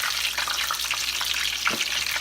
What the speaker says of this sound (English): And then we'll finish frying the egg rolls.